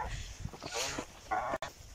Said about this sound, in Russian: Ленивые у нас гуси.